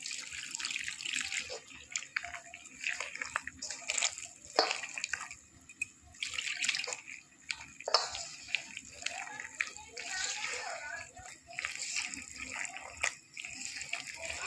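Water trickles and splashes in uneven spurts as it is poured into flour for paratha dough, close and fairly quiet, with faint intermittent sounds around it.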